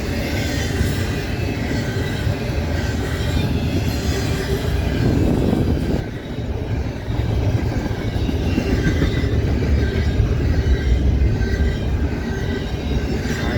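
A freight train passes on a line in Ohio at about 30 mph, a loud continuous rumble of rolling wagons with rhythmic wheel clatter and occasional squeal, briefly dipping midway before carrying on.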